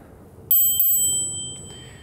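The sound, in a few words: electric scooter handlebar bell ringing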